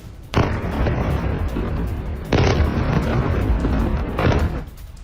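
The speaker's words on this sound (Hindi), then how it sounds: "बंकर बस्टर बॉम्ब का इस्तेमाल किया गया है और इस बॉम्ब के इस्तेमाल से ये पूरी इमारत चंद सेकंड्स में जमींदोज हो गई" Huge blasts from bunker buster bombs bring down a building in Lebanon. Three loud, booming roars each hit suddenly and then rumble on for about two seconds, with no voices.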